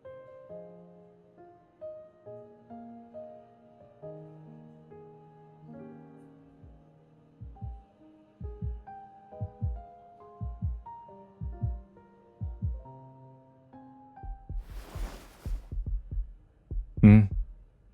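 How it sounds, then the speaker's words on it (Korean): Steady thumping heartbeat pulses, soft and regular, heard after a stretch of gentle synth tones, with a brief louder burst near the end. "이제는 우리들의 심장 소리야."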